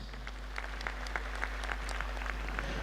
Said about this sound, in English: Let's give those two headline sponsors a round of applause.